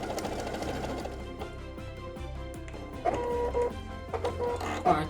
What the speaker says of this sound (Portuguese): E agora vou costurar para vocês visualizarem a diferença.